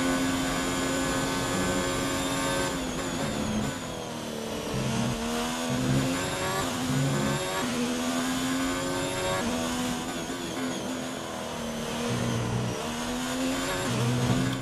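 A Formula 1 car in F1 2019 holds a high, steady engine whine through a lap, its pitch rising and dipping with gear changes and throttle, loud and close from start to finish.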